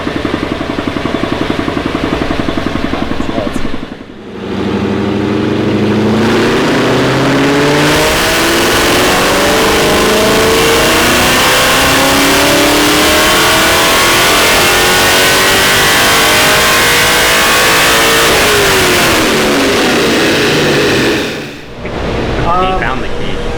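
A supercharged LS2 V8 roars through a full dyno pull, revving steadily upward from low RPM to a loud, sustained high-RPM scream before dropping off, very close and dominant throughout.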